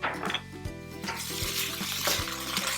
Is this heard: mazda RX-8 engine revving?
no